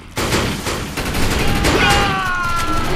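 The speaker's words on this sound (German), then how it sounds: "ein Schuss" Gunfire in the sci-fi shooter game Defiance during a player-versus-player match, a sharp burst followed by sustained rattling fire and game noise, with players talking over it.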